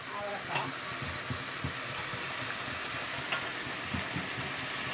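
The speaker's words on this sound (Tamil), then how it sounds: "அரிஞ்சு வச்சுருக்க காய்கறி எல்லாம் ஒன்று ஒன்று போட்டு வதக்கிக்கலாம்." Chopped carrot, beans, drumstick, eggplant, raw mango and broad beans sizzle steadily while being sautéed in a pan, with repeated scraping stirs over a continuous hiss of frying.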